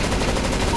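Gunfire in the video game CS:GO, a dense, continuous burst of rapid shots that stays loud and steady for the whole short moment, with no pauses between rounds.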